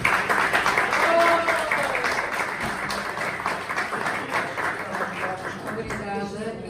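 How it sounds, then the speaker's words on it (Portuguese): Audience applause at a book launch event for the teacher Irene Ferreira, a steady, dense wash of clapping that holds fairly loud throughout and eases off only slightly toward the end. "Pedi um aplauso para a minha professora"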